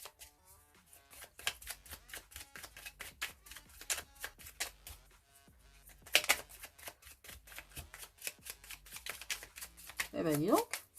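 Tarot cards being shuffled and drawn, a long run of quick crisp riffling flicks and taps close to the microphone, with a brief spoken exclamation near the end.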